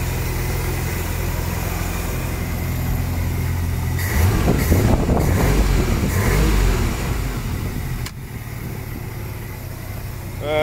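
Motor of a Bayliner boat with a new engine of about 45 hours, running steadily as a continuous mid-level drone with a brief swell in the middle, no talking.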